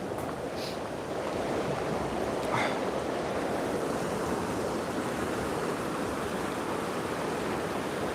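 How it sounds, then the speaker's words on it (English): Rushing water from a small waterfall on a river in a garden pours as a steady, broadband wash, constant and moderately distant, with no voices. "This is another lovely view of this river right here and the little waterfall."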